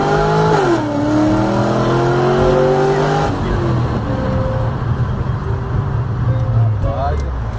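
A Corvette engine revs hard as it accelerates down a straight, loud and sustained with rising pitch sweeps and a brief tire chirp, while people talk over it inside the car.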